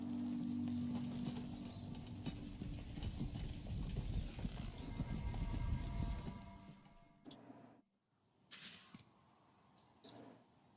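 Horses' hooves clatter along a road in the fantasy video game Ash of Gods, a steady dense clip-clop under a loud mix that cuts off abruptly, leaving a few isolated sharp knocks.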